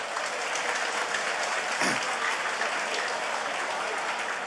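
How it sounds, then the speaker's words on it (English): Steady, full applause from a crowd at a political rally announcing election candidates, a continuous wash of clapping with a brief voice or cheer near the middle. "Give yourself a round of applause."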